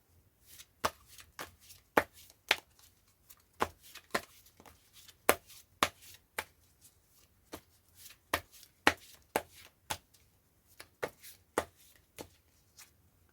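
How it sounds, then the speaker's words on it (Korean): Tarot cards are shuffled by hand in a quiet room, a long run of crisp, close riffling snaps and taps at an uneven rhythm with no talking. "저 또한 같은 것을 생각하면서 카드를 섞어 보도록 할게요"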